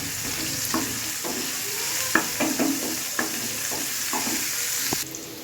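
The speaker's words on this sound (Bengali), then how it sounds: "উচ্ছেটাকে লাল করে ভেজে নিয়েছি" Bitter gourd fries in a pan with a constant sizzle, broken by repeated clinks and scrapes of stirring, close and alone with no voices.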